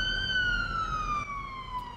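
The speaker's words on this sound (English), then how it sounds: "So I think that ambulance is going to sit there and wail." A steady wailing ambulance siren from the Police Simulator patrol game sounds continuously with a slowly falling tone, loud and clear over a low engine-like rumble, no talking.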